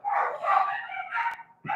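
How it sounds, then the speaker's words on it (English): The neighbor's little dogs bark in a few quick, excited yaps and yips nearby, with short pauses between bursts and no speech. "Sorry, I got my neighbor's dogs right there."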